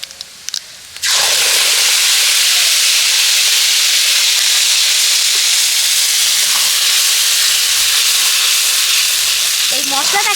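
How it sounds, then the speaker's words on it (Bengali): Spice paste hits hot oil with a sudden loud sizzle that settles into a steady, bright frying hiss, continuing strongly for the rest of the stretch after a short quieter moment at the start. "এবার যে মশলাটা আমি পেস্ট করে রেখেছিলাম সেই মশলাটা তেলের মধ্যে দিয়ে দেব"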